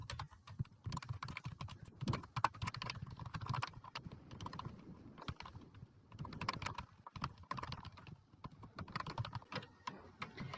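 Quiet, irregular clicking of keys as Python code is typed on a computer keyboard, bursts of keystrokes with short pauses, close and alone.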